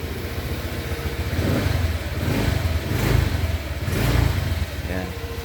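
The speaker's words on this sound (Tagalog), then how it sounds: "Normal lang sa Honda Click yung pag-start mo, mag-vibrate muna siya." A Honda Click V3 scooter engine runs close by with a throbbing, vibrating drone that swells and eases in a few waves before settling.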